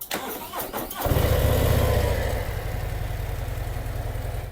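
A Harley-Davidson motorcycle engine cranks briefly, then catches and roars to life, settling into a steady idle close by.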